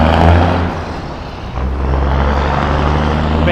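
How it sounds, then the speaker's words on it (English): A loud tractor-trailer truck roars past close by on a Midtown Manhattan street at night, its deep engine rumble swelling, dipping briefly, then building again. "that's the loudest tractor trailer I've ever experienced in my life"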